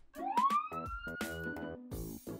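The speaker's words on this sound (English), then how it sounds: "Police car." A cartoon police car siren wails with a rising, sweeping tone over engine-like rumble, loud and close, with a burst of noise near the end.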